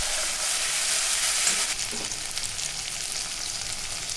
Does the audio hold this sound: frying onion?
yes